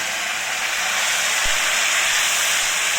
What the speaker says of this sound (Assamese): মই যি আলু মেৰিনেট কৰি ৰাখিছিলোঁ সেইখিনি মই এতিয়া ফ্ৰাই কৰি লৈছোঁ অলপমান